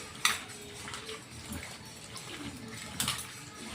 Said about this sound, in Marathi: तर हे कारले मी आता छान मीठ टाकून धुवून घेणार आहे